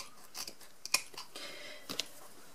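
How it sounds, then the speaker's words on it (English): A few quiet, crisp snips of not-very-good scissors trimming the ends of a handmade fabric bag, spaced irregularly with soft handling noises between them, close and faint. "my not best scissors and just trim the ends down so that they are the right sort of length"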